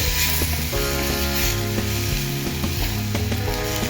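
Tomatoes frying with onion in a pan, a steady close sizzle with repeated light clicks and knocks of stirring over a few seconds, no voices.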